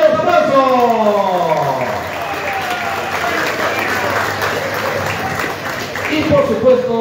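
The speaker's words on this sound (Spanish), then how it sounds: "¡Denle un aplauso!" Applause from the crowd at a motocross press conference in Pucallpa, a sustained wash of clapping under and between a speaking voice.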